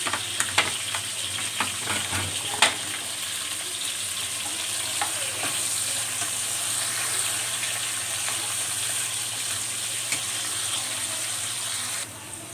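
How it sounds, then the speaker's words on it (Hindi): Onions browning in cooking oil in a pan for a spinach, fenugreek and potato curry, a steady close sizzle and hiss running throughout with occasional light clicks and stirring scrapes, no talking. "प्याज़ों को हम हल्का सा ब्राउन करेंगे।"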